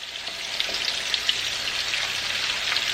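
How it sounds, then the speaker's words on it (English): Unbreaded chicken pieces fry in a hot pan with a steady, close crackling sizzle and scattered sharp pops, continuous throughout with no talking. "I am frying my chicken naked. So, just going to throw that in there."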